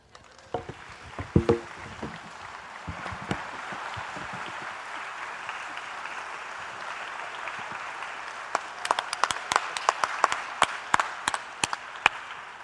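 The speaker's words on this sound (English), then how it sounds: "we're acknowledging the applause at the end of a concert" Audience applause at the end of a string and choral concert begins with scattered individual claps over a soft background wash, then grows into sharper, more frequent claps from nearby hands.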